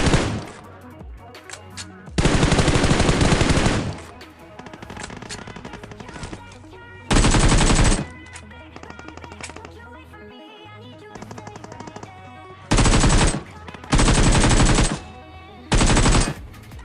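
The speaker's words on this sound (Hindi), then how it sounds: "कोई सामने से फायरिंग करता है" PUBG automatic gunfire comes from ahead in loud sustained bursts of rapid shots separated by quieter in-game ambience and scattered single shots, with no talk.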